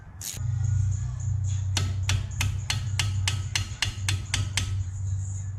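A hammer strikes repeatedly while Brembo brake pads are changed on a Ford Focus RS: about a dozen sharp metallic blows in a quick, steady rhythm, close and loud over a low droning background hum.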